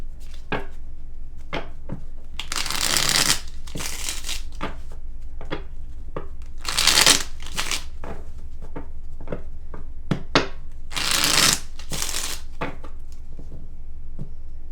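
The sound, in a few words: shuffling tarot cards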